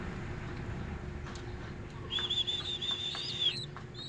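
A caged bird gives a short whistled call outdoors, a faint thin warbling note lasting about a second and a half over steady background hum, with no talking.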